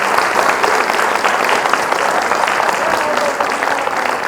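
A theatre audience at a forum theatre performance applauds steadily and loudly, a dense wash of clapping filling the whole stretch without pause.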